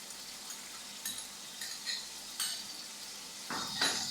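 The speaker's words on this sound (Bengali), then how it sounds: "এটাকে একটু ভাজা ভাজা করে নেব।" A paste of onion and cashew sizzles softly in a pan while a spoon scrapes and stirs it in several short bursts, quiet and close.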